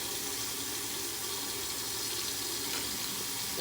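Water runs steadily from a tap to rinse away shave cream, a close, even hiss of flowing water with no break and no talking.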